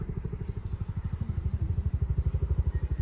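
A low, heavy rhythmic thudding of a low-flying Chinook helicopter's rotor blades, steady and close overhead, with a deep engine drone throughout.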